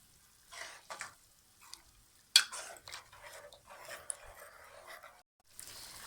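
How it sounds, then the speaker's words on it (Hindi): Boneless chicken and peas are stirred in a pan, soft sizzling broken by irregular spoon scrapes and one sharp clatter, fairly quiet and close with gaps of near silence. "चिकन और मटर को हम बहुत ही अच्छे तरीके से भूनेंगे"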